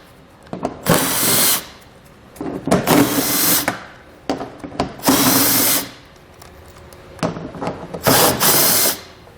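A power drill whirs in four separate bursts, backing 10mm screws out of the rear bumper of a 2017 Toyota Sienna, each run rising loudly and then stopping, with small ratcheting clicks between.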